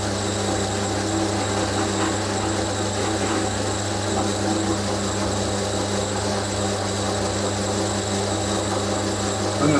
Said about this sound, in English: I'm going to try and drill straight through to the bottom